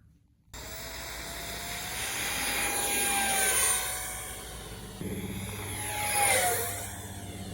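A UMX 50mm Habu RC model jet plane flies past with a high electric ducted-fan whine that swells and fades twice as it passes overhead, fairly distant and steady, with no voices.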